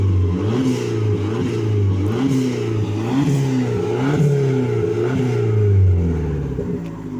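An Abarth Punto engine revving up and down repeatedly at the rear, loud and close, its deep throaty note rising and falling in several pulses before a final longer rev.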